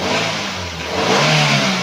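A 2015 Daihatsu Granmax 1.3 pickup engine is blipped hard, a loud, close rev that swells, dips briefly and surges again over under two seconds.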